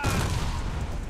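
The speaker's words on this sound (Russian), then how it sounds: "Граната!" A grenade blast in the online shooter Warface, a loud booming explosion with a rumbling low tail that holds strong across the short moment.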